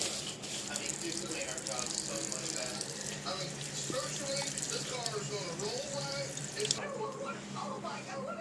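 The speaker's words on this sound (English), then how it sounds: "open up my meat and give it a rinse" Meat rinsed under a running kitchen tap: a steady, broad rush of water splashing into a sink throughout, close and even, with a voice talking over it.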